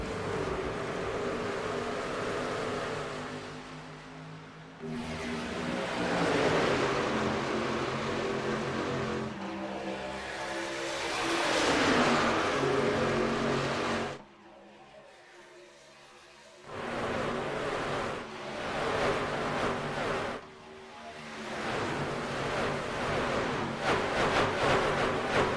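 Pack of NORA Truck Series race trucks roaring away at the green flag at Kansas, a loud sustained engine drone with rising and falling pitch as they pass, cut by a brief quieter gap midway.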